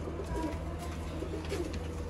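A pigeon coos softly nearby, a few low, rounded calls in quick succession against a quiet background.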